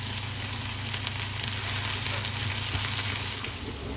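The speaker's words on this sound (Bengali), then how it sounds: "তেল গরম হয়ে গেছে, আমি রসুন আর পেঁয়াজ একসাথে দিচ্ছি।" Garlic and onion added together to hot oil sizzle steadily, a dense close frying hiss that holds for the whole stretch with slight swells and no talk.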